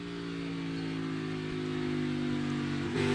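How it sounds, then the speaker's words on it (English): A NASCAR race car at the 2022 Ambetter 301 practice and qualifying holds a steady, close engine tone, then the pitch jumps abruptly near the end as it downshifts. "Now he's going to downshift."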